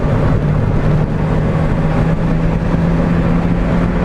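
A car accelerating hard through the gears on the Cadwell race track, a loud, steady engine roar heard from inside that stays dense and continuous throughout.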